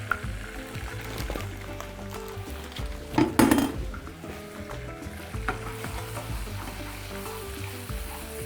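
Flour being stirred into melted butter in a pan for béchamel sauce, with soft sizzling and scraping of a utensil against the pan and a louder clatter near the middle.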